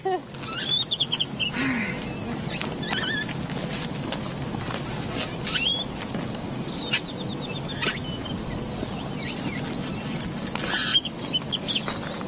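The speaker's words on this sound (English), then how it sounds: "Yeah, birds." Small birds chirp in brief scattered bursts outdoors during a disc golf tournament round, fairly faint over steady low ambient noise and rustle.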